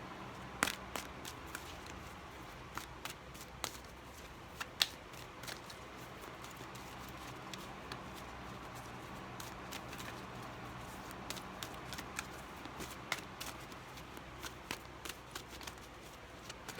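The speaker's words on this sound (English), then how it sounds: "you really can't see me shuffling. Probably just see the cards falling onto the cloth" Oracle cards being shuffled and dropped onto a cloth make a steady run of soft, close clicks and flutters at an uneven rhythm, heard alone with no talk.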